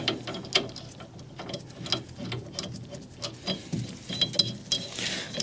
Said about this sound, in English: As I just bolt it up, it should go in.